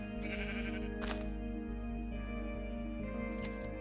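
Sheep bleat in a video game animal farm, with a couple of clear bleats standing out over a steady mechanical hum and tonal machine drone.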